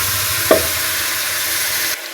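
Goat meat and spices frying in hot oil in a pan, a steady close sizzle with a brief stirring clatter near the start, cutting off sharply just before the end.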